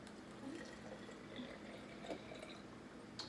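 Water poured into a bottle with leftover honey residue, quiet liquid trickling and filling with a few small splashes and drips, no talking.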